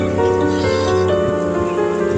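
Heavy rain in Mindanao, a dense, steady hiss of downpour with constant pattering on surfaces, loud and unbroken throughout.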